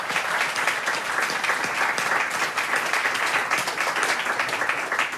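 An audience at an award ceremony for a competition in Boulogne-Billancourt breaks into sustained applause, a full, steady roar of many hands clapping at close range with no break.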